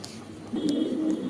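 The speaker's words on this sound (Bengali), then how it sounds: "ক্রিমবার এক্সিবিশন মাদি কবুতর" A cream bar exhibition female pigeon gives one short, low cooing call in the second half, close by, over a faint background hiss with no talking.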